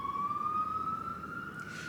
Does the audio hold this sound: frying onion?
no